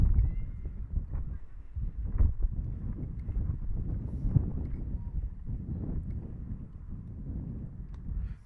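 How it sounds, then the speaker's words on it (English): Strong wind roars and buffets the microphone in steady low rumbling gusts at an outdoor softball game, with no one speaking. "You can hear the wind. It's really windy."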